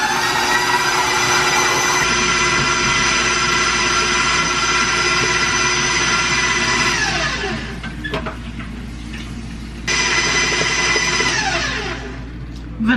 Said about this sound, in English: it's got to whisk until fluffy for a couple minutes